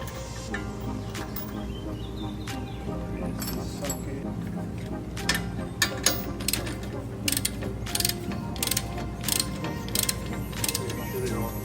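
Bracket bolts being run in by hand on an Akebono big brake caliper swap for a widebody Nissan 350z, giving close metallic ratchet clicks and clanks in quick bursts, with no speech over them.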